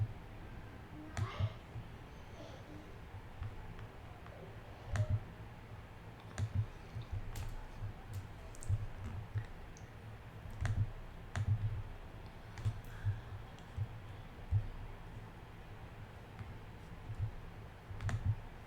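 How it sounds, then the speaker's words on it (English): Computer mouse clicks while picking search results, sharp and close, spaced irregularly every second or so under faint room noise, quiet overall. "we're going to just click on these"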